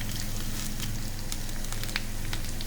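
Boiled drumsticks, added to a pan with curry leaves for a nuggekai fry, give off a steady close sizzle with small scattered pops throughout and no talking.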